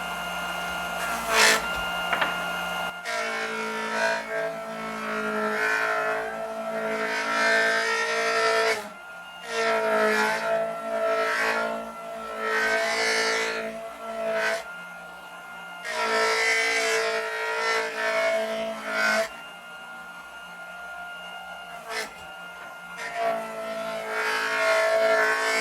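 A JoolTool rotary polisher whirs against a glass cabochon, its motor hum rising and dipping in repeated passes as the piece is shifted, with scraping friction tones in between and brief pauses.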